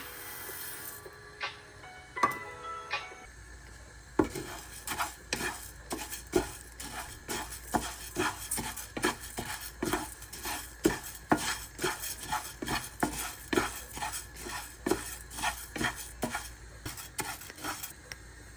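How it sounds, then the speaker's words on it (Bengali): Mung and black gram lentils dry-frying in a pot for khichuri are stirred briskly, giving a long run of rapid, sharp scraping clicks of a spoon against metal after a few scattered knocks, close and fairly quiet. "এদিকে খিচুড়ির জন্য ডাল ভেজে নিব"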